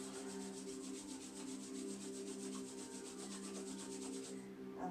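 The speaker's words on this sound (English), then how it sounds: "Take our hands together in prayer and just rub them together nice and fast." Palms pressed together and rubbed back and forth quickly in a steady swishing rhythm during a yoga session, close and continuous for several seconds before stopping, with no talking.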